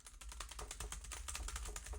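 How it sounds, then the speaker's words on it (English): Clicky keys on a Batecoya keyboard case for an iPad Air 11-inch, with an aluminum backplate, being typed in a fast, steady run of sharp close-up clicks. "Nice clicky keys."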